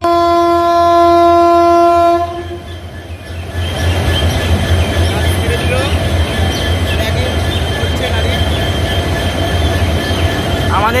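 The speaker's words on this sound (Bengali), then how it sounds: "ট্রেন ছেড়ে চলে যাচ্ছে বর্ধমান জংশন ছেড়ে।" The Howrah–Rampurhat Sahid Express pulls out of Bardhaman Junction, opening with a loud sustained horn, then rolling wheels rumble and squeal steadily nearby.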